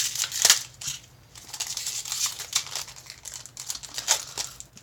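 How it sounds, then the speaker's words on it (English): The foil wrappers of Magic: The Gathering Guilds of Ravnica booster packs crinkle and crackle up close as they are pulled open, in irregular bursts of rustling. "Man, having some trouble opening these boosters."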